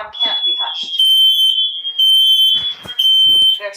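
A Nest Protect smoke alarm sounds a loud, piercing steady high tone, broken by short pauses as its recorded voice announces an emergency between the beeps.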